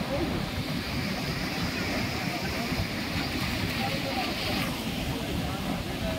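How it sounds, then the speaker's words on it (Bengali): Sea waves washing against boulders at Digha Mohona on a morning shore, a steady broadband rush mixed with wind buffeting the microphone, with faint talk underneath. "এই বোল্টের গায়ে ঢেউগুলো লাগছে"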